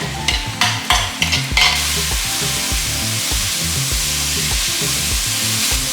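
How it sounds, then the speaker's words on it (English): Chili spice paste fries in a few tablespoons of oil in a pot over medium-low heat, giving a loud, even sizzling hiss after a few quick bursts of scraping and stirring at the start. "On a medium-low heat, we will fry our chili paste, spice paste."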